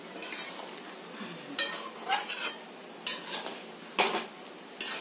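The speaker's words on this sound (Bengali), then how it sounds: "এবার তেজপাতাটাকে ভালো করে এর সাথে মিশিয়ে নিতে হবে, অর্থাৎ নাড়িয়ে নিতে হবে" A spatula stirs a bay leaf through simmering sugar syrup for pickle, with a handful of distinct scrapes and clinks against the pot spaced over a low, quiet bubbling background.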